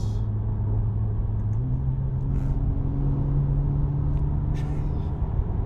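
Loud, steady engine drone from a 2024 Porsche 911 Turbo S with Chrono package in sport mode, heard from inside the moving car, a deep rumble whose pitch climbs slightly as it accelerates, with no speech.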